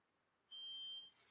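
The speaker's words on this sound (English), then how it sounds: "I've suddenly got a fire alarm going off." A fire alarm sounding indoors as a single steady electronic tone of about half a second, faint and alone.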